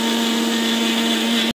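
A mixer grinder runs on rock salt with a loud, steady high-pitched whir, close and continuous, then cuts off abruptly near the end before briefly restarting.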